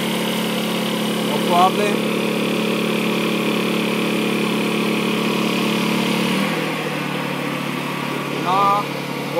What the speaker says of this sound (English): While this generator is running, I'm going to turn on the other generator.